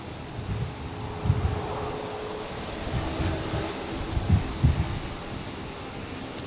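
Rex airliner departing Brisbane for Sydney, a fairly quiet jet engine rumble with a faint whine, heard at a distance, swelling a little in uneven low surges, with no speech.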